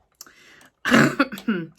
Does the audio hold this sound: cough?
yes